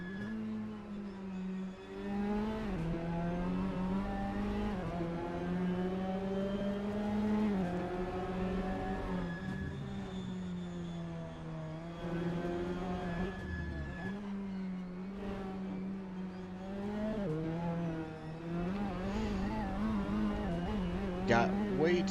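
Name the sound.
race car engine hitting rev limiter, Assetto Corsa video game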